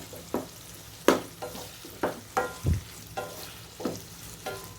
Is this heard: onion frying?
yes